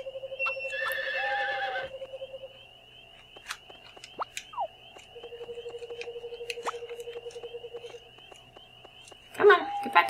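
A horse neighs in the Harvest Moon 64 farming game, a loud whinny near the start followed by scattered game sound effects and a long low tone, with a brief burst of clatter at the end.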